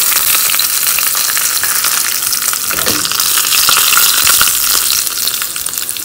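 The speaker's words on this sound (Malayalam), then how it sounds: "ഇതിലേക്ക് ഞാൻ കടുക് ഇട്ട് കൊടുക്കുകയാണ്. പിന്നെ അതിൻ്റെ കൂടെ 3 വറ്റൽമുളക് കൂടി ഇട്ട് കൊടുക്കുന്നുണ്ട്." Mustard seeds, three dried red chillies and curry leaves sizzle steadily in hot oil for a Kerala-style beetroot pachadi, a loud, continuous crackling fry with no voices.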